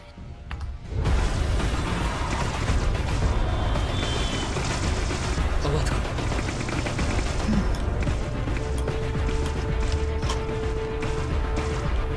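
Heavy video-game gunfire, a loud, dense and continuous barrage of rapid shots that starts abruptly after a second of quiet and keeps going without a break to the end.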